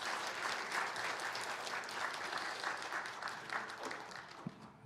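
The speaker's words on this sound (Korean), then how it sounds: "우리 큰 박수로 격려해 주시기 바랍니다" A church congregation claps during a Sunday worship service, a soft, fairly distant round of applause from many people that continues evenly and fades slightly toward the end.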